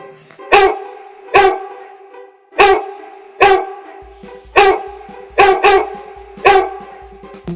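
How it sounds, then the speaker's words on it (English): A dog barks repeatedly, about nine sharp, loud, close barks in an uneven rhythm, some coming in quick pairs, with near silence between them. "dog,"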